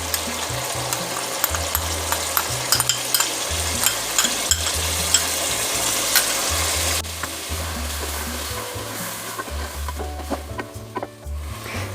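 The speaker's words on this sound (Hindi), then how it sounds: "दही इसमें डाल दिया है मैंने, मिक्स कर लिया है।" Yogurt is stirred into chicken pulao frying in a pot, giving a loud, continuous sizzle with repeated scraping and clacking of the stirring spoon throughout.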